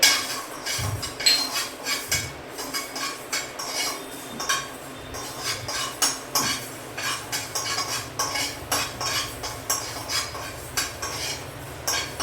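Fenugreek seeds and cumin dry-roasting in a pan for Andhra avakaya mango pickle powder, with steady scraping and clinking of a spoon stirring against the metal and a faint sizzle, close and continuous without talk.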